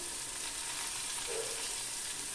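Spices for a crab curry fry in a pan over a low flame, giving a steady soft sizzle that continues evenly and close throughout without any talk.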